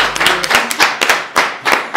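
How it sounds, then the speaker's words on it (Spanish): A few people clap their hands close by, uneven rapid claps for about two seconds, more like brief clapping than a large crowd's applause. "¡Un aplauso!"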